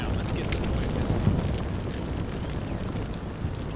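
Enemy artillery rumbles in Combat Mission Black Sea as a steady dense roar of explosions and debris, loud and continuous with faint crackles scattered on top, no clear single blast.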